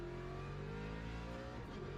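Ford Mustang with a Coyote V8 revving hard in the Le Mans Ultimate racing game at Imola, a loud, steady engine note with rising harmonics filling the whole clip, no voices.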